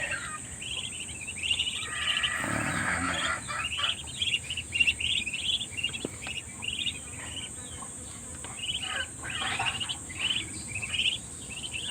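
Pet ducklings chirp in rapid, high peeping bursts, near and fairly clear, over a constant shrill insect-like drone that persists throughout.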